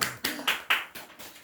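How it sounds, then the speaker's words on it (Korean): A church congregation's short burst of applause, sounding as about six sharp, distinct claps that fade over a second and a half, fairly close and with no talking. "한양 박수 좀."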